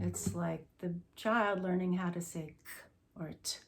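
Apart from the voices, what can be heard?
No distinct noise like a dog, phone or traffic.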